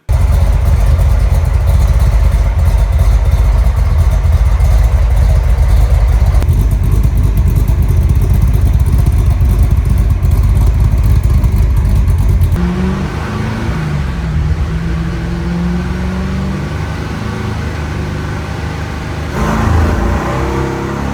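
A 1965 Corvette's 427 big-block engine runs loud and close, a heavy steady roar at first that drops to a rougher idle, then swells again in a short rev near the end.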